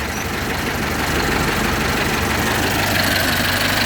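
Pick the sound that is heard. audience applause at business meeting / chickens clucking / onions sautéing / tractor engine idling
tractor engine idling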